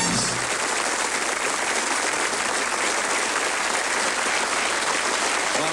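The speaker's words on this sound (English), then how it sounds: "Give them a round of applause." A studio audience at a 1990 televised darts game show applauds, a dense, steady wash of clapping held at even loudness throughout, with no voices over it.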